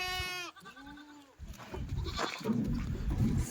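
A Kathiawari dairy goat gives a loud, wavering bleat, then another bleat follows amid rustling and low farmyard noise.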